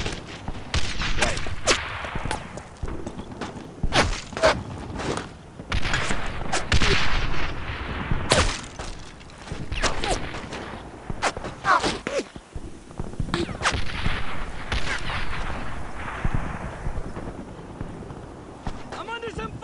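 Gunfire in the 2005 PC war game Brothers in Arms: Earned in Blood: repeated loud rifle and machine-gun bursts with heavy impacts in an irregular barrage, while soldiers shout over the shooting.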